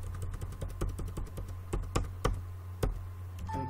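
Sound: typing on a computer keyboard

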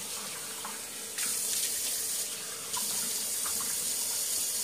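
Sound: water running from a faucet while rinsing a face

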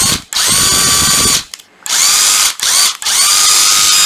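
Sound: cordless National impact driver running in reverse

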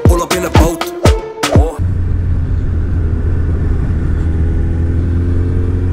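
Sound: motorcycle engine while riding

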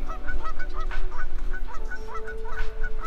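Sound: goose honking at Lake Simcoe

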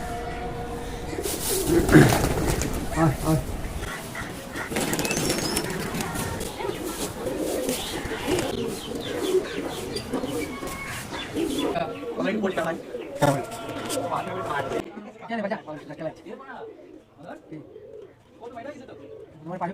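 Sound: pigeons cooing while eating in the loft

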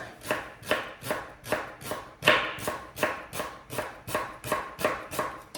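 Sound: knife slicing leek into thin half-slices

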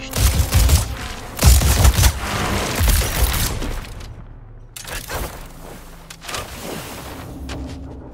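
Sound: suppressing gunfire in video game Suicide Squad: Kill the Justice League

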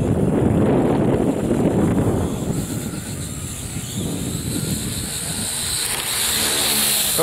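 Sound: wind during an X10 quadcopter test flight

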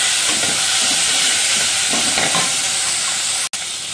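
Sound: chopped tomatoes stirred into frying onions in a pan

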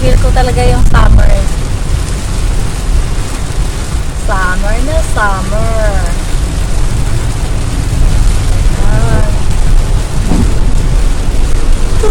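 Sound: summer rain with thunder

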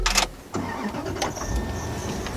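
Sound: Bentley car engine starting

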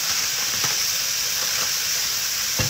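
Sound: ground meat browning and sizzling in a pan

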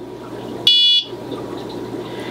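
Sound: water leak alarm sounding

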